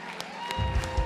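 A church congregation applauds during a worship service. The clapping rises quickly into a dense patter of many hands under a faint voice and room echo.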